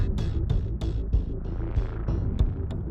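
A stuttering synth in an electronic music track pulses in choppy rhythmic bursts over a deep throbbing bass and drums, loud and continuous for a few seconds.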